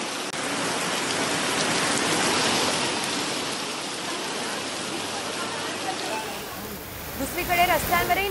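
Heavy monsoon rain pours down in Nashik near the Godavari riverbank, a dense, loud, continuous wash of drops on surfaces, thinning and mixing with other noises toward the end.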